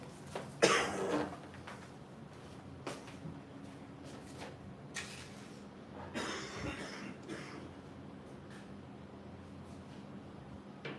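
A person coughing in a room: a sharp cough near the start followed by scattered softer coughs and throat noises at irregular intervals, fairly quiet overall with no talk.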